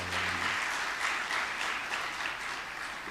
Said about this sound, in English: Can we give a round of applause to our